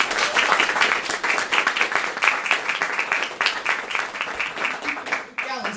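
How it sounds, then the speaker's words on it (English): People at a poetry event applaud with rapid, crowded clapping that runs nearly the full length, mixed with cheering or voices, before thinning out at the end. "So give yourself a round of applause"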